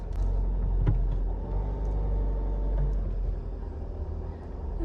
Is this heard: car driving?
yes